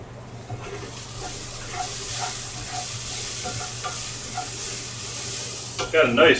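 Garlic sizzles and crackles while frying in a pan, a steady close hiss with occasional stirring scrapes and a brief clatter near the end.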